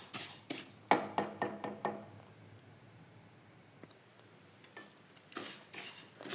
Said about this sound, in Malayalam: എള്ള് ഞാൻ വറുത്തിട്ടുണ്ട്